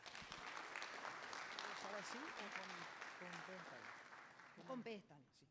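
Audience at a lecture day applauds a speaker being welcomed, a steady wash of clapping with voices talking over and through it before it thins out.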